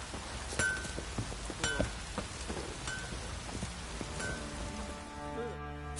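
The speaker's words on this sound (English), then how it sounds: "Oh, it's drizzling." Light drizzle patters steadily in a video game, a soft continuous hiss of rain with a few faint clinks and game tones, some of them sustained and tonal near the end.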